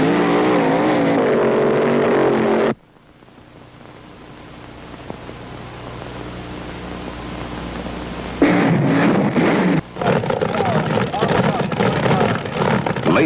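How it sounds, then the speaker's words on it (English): Front-engine dragsters at the National Drag Racing Championships at Indianapolis on Labor Day, two cars running a quarter mile: a loud, roaring engine blast that cuts off to a low rumbling drone, then erupts again into a dense, close roar. "Two cars dice for a quarter mile. Insanely powerful machines pushed to the bizarre limits of performance."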